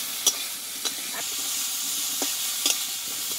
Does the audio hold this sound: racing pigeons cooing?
no